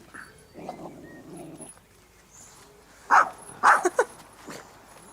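Paddy the dog gives a low growl, then a quick burst of several loud, close barks with a whimpering edge, with no one speaking.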